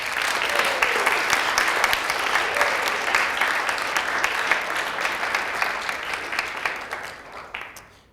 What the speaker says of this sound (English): A round of applause for our candidates today.